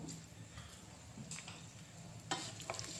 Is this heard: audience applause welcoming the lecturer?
no